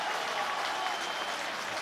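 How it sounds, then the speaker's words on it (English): Stadium crowd at a Middlesbrough versus Arsenal Premier League match applauds the home side's efforts, a continuous, even roar of distant clapping and crowd noise throughout. "Well, how about that for a round of applause"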